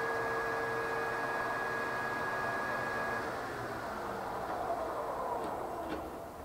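SWI Trak 2460SX lathe spindle turning steadily at 1100 RPM, a constant mechanical whine with tonal hum that shifts partway through and eases slightly toward the end, heard alone.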